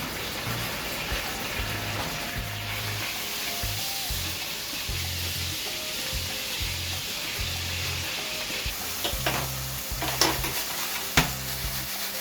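Steak laid on onions frying in a pan for a Cuban-style steak sandwich, producing a sustained close sizzle with a low background hum and a couple of sharper clatters near the end, no voices.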